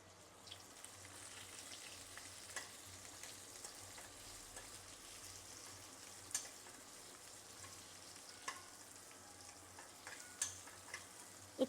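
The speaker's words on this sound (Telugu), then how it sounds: "ఇట్లా ఫ్రై చేస్తూ ఉండాలి." Food frying in a pan while being stirred gives a faint, continuous sizzle. Soft scraping and occasional clinks of a utensil against the pan sound through it, with no voices.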